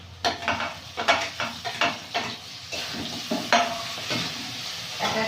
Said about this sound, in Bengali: পেঁয়াজটা ভাজা ভাজা হয়ে গেছে, আদা দিয়ে দেবো